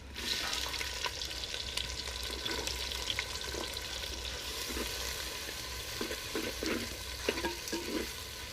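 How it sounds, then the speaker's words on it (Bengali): Finely chopped raw onion frying in hot oil with bay leaves, dried red chillies, whole garam masala and cumin, a continuous close sizzle with frequent stirring scrapes and clinks against the pan. "দিয়ে দিব এক চামচ লবণ আর দিয়ে দিয়ে পেঁয়াজটাকে ভেজে নেব"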